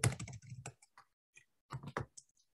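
Typing on a computer keyboard in Canva: bursts of light, close key clicks tap out a short word, pause, then resume in a brief flurry.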